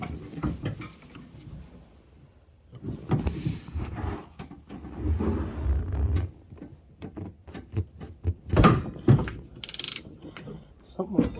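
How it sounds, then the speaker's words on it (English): Big wrench on the flywheel nut of a 1968 Eaton Viking vintage snowmobile: irregular metallic clanks, ratcheting clicks and scraping as the tool is worked, with heavy breathing and effort sounds between. "I have a wrench on the nut over here."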